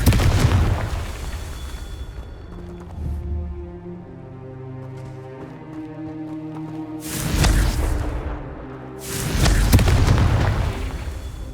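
Fire-spell blasts from the Hogwarts Legacy video game, with deep booming explosions at the start and two loud bursts near the end, separated by a quieter rumbling stretch with faint musical tones.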